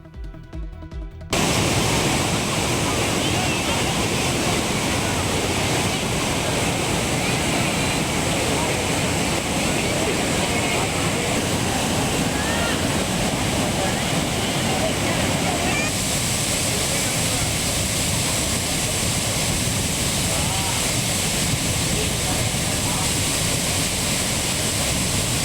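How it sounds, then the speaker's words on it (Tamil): Floodwater roars down the Courtallam main waterfall and Five Falls after heavy rain, a dense, continuous rushing torrent heard loud and steady throughout. "குற்றாலம் மெயின் அருவி மற்றும் ஐந்தருவியில் திடீர் வெள்ளப்பெருக்கு."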